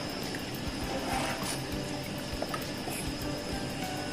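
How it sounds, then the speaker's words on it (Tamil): Sambar bubbles in a pot at a steady boil, a soft continuous simmering hiss with faint low bubbling throughout and no talk. "இப்போ இத நல்ல கொதிக்க விடலாம்"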